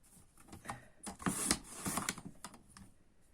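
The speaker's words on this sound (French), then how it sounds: "Et là, je vais venir découper avec mon petit massicot." A small paper trimmer cuts a sheet of paper for a scrapbook folio album: a few light clicks, then a quick sliding, rasping cut with a crisp papery hiss, close and fairly quiet.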